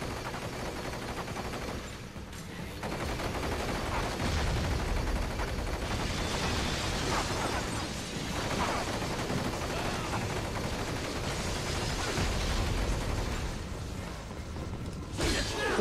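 Turret gunfire in Metal Gear Rising rattles in dense, continuous bursts for several seconds, mixed with booms and whooshing combat noise, loud and close throughout.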